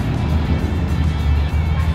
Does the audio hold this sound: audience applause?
no